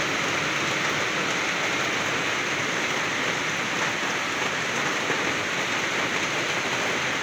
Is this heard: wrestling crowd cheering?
no